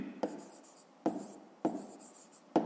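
Pen or chalk strokes of writing during a math lesson, a few separate scratchy bursts near and fairly quiet, with no talk.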